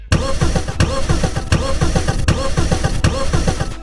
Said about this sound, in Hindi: लेकिन वैन स्टार्ट ही नहीं होती है।